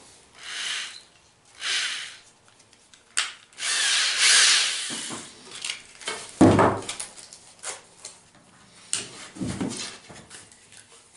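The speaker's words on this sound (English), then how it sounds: "So I'm going to put it back in the drill." A drill spins a wooden shaft while sandpaper shapes it, giving several short bursts of whirring and scraping separated by pauses, close by and moderately loud.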